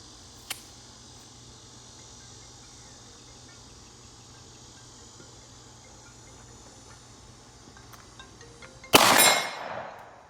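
Glock 43 pistol shots fired outdoors at a steel target, a faint crack early on and a louder sharp shot near the end, with crickets chirping steadily throughout and no talk.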